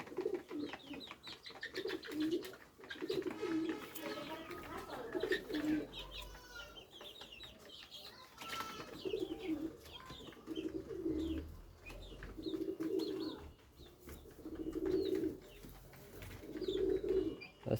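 Pigeons, Pakistani teddy and local Giribaz breeds, cooing in repeated low rolling phrases at regular intervals, fairly close, with some faint background chatter and clucking in between.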